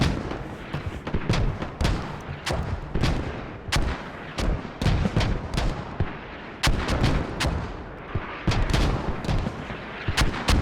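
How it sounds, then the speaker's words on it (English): Mortar impacts and gunfire crack repeatedly through a Squad battle near Hemp Farm, sharp loud reports arriving in irregular bursts and clusters with little pause between them, no voices over them. "Mortars aggressively being used now as a last-ditch effort to close in all tickets."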